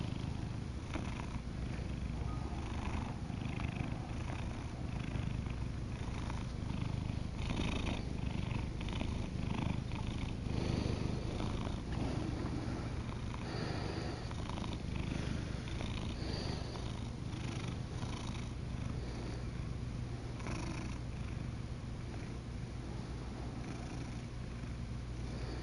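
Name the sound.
cat purring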